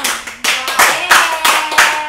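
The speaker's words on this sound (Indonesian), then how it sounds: "Wow, tepuk tangan dong." Brief bursts of clapping from a studio audience on an Indonesian talk show, about half a dozen uneven rounds of hand claps in quick succession, close and fairly loud.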